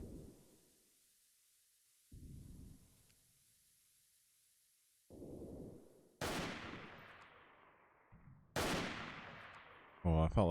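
Gunfire in the video game Freeman: Guerrilla Warfare comes as muffled low thumps early on, then several sharp, loud shots with decaying echoes separated by short pauses.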